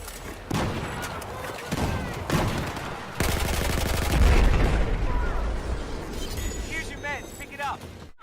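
An ACE 23 assault rifle fires in Battlefield 4, loud full-auto bursts and rapid cracks broken by short pauses, with distant battle gunfire and a voice talking over the shooting.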